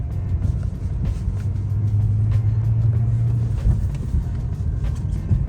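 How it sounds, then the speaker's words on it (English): BMW E90 sedan pulling out of a driveway and driving off with fresh sway bar links and a wheel speed sensor: a steady, close low engine and road rumble, with a brief rising tone partway through and no talking. "I'm gonna pull the car out of the driveway, start driving"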